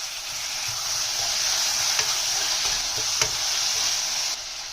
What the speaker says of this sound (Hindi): तो उसके बाद मैं चॉप टमाटर डाल रही हूँ।